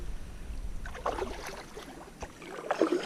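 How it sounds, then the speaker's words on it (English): A canoe paddled easily on the Hells Bay trail in Everglades National Park, with soft, close splashes and water swirling off the blade in two gentle strokes over a quiet outdoor background. "just paddling nice and easy."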